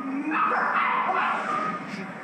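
A small, shy female dog at an adoption whimpers and yips in short, high, whiny bursts close by, continuous over a background murmur of people.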